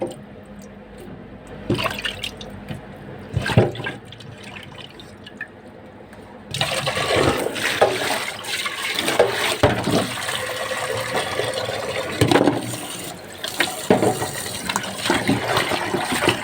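Cow trotters are rinsed under a running kitchen tap, water splashing and gushing in bursts, quieter at first and then a louder, continuous stream with occasional clunks from handling, without speech.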